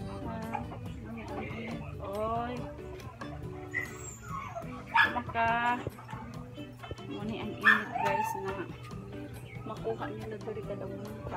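A dog barks and whimpers in short bursts near the middle of the clip, mixed under steady conversation and background noise outdoors.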